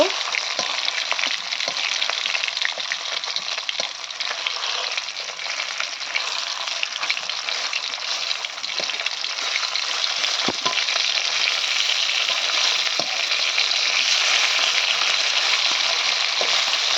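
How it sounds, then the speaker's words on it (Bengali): Fish pieces frying in a pan of hot oil, a steady, loud, continuous sizzle with faint crackles throughout, no talking. "এদিকে হলো মাছগুলি ভাজতে দিচ্ছি"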